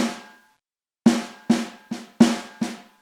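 Six crisp, dry hits from a 14 by 5 inch Ludwig Supraphonic snare drum sample in an uneven pattern, each with a quick, tight decay and clean silence between, played alone.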